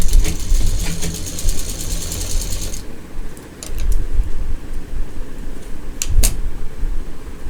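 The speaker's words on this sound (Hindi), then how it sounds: "ये इस तरह से अब मोड़ेंगे डबल सिलाई वहाँ पे देते हुए" A sewing machine runs in quick mechanical bursts while it double-stitches a folded seam on a flat fabric potli pouch, with faint clicks and short pauses between runs, no talking.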